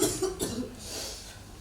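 A sick man in a film coughs: a short cluster of three or four rough, hoarse coughs, soft and fairly close, fading into quiet room tone.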